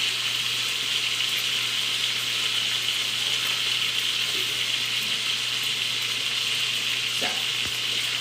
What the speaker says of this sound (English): So I'm going to give them a quick rinse and then we'll cut them off.